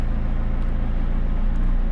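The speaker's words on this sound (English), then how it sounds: "Shift the car into track mode, see if you can hear any difference here with the exhaust or anything." A 2019 McLaren 600LT idling in track mode, its exhaust giving a steady low rumble that holds even and unbroken throughout, with no voices over it.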